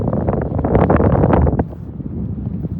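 Cold wind blows at the Duluth ship canal in Minnesota, buffeting the microphone with loud, rough gusts for the first second and a half. The gusts then ease into a softer, steady blustery rush.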